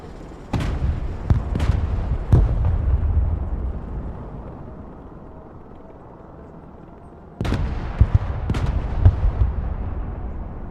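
Heavy weapons fire and explosions in the video game Broken Arrow: a few loud booming blasts with rumbling tails, a lull of low rumble, then another cluster of sharp detonations.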